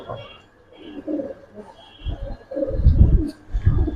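Pigeons in a loft cooing, soft low throaty coos coming in uneven bursts, growing fuller and louder toward the end, with faint background voices.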